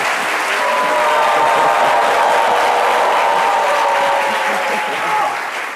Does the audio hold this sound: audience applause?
yes